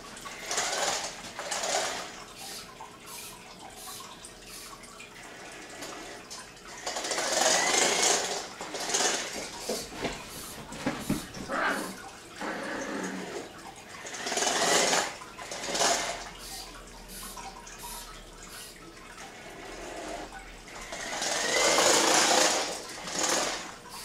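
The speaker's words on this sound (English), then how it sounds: "So when I activate this robot, it will walk this way and avoid that obstacle and continue on walking, avoiding obstacles." A walking obstacle-avoiding robot with a turning servo whirs and clatters nearby in repeated bursts of mechanical motor buzzing and rattling, rising and falling in loudness across the stretch.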